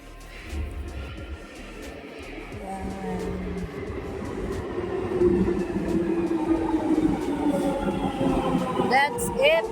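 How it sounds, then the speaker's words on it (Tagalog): A London Underground train pulls into Wembley Park station with a rising rumble and screeching, squealing wheels that build and grow louder as it nears, a voice briefly heard over the platform noise. "My train is here."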